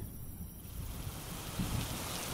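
Cartoon-style rain sound effect as a shower begins to fall, a steady broadband hiss with a slight swell near the end, continuous and with no other sounds.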